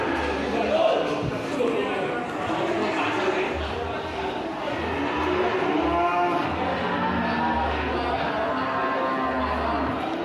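Limousin cattle moo repeatedly at a busy livestock market, Pasar Wakinan, the low calls rising over a steady murmur of crowd chatter and people talking nearby.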